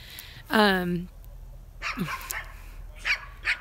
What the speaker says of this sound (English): the loud dogs, yeah, they bark all the time